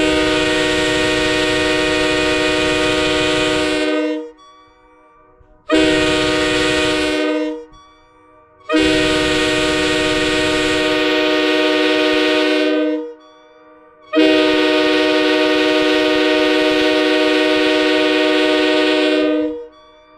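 Nathan K5L or K5H train horn, a loud five-chime chord blasted four times, the first three blasts about three to four seconds each, the last longest near six seconds, with brief silent gaps between and no talking.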